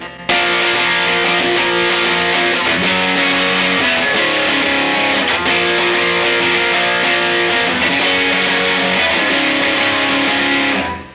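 Heavily distorted electric guitar strums a dark progression built around an inverted root power chord, sustained and loud throughout, ringing out alone without talk and cutting off at the end.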